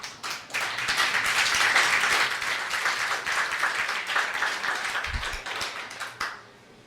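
A church congregation applauds steadily at a French-language service, dense clapping sustained for several seconds before tapering off near the end.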